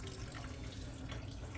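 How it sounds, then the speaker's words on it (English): Coolant drains in a steady, noisy gush from a 5.7 HEMI engine during a water pump replacement, a continuous splashing flow that stays fairly even throughout. "So now I'm draining the coolant."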